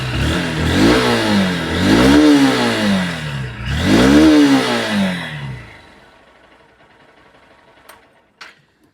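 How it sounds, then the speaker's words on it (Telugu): A Honda Unicorn 160 motorcycle is kick-started and revved three times in close rising-and-falling swells, then the engine settles into a low, quiet idle, with a couple of faint clicks near the end. "సో ఒకసారి ఇంజన్ సౌండ్ విందాం."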